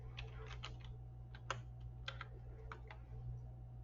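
Fingers typing on a computer keyboard in a quiet room, quick irregular clusters of soft key clicks over a low steady hum.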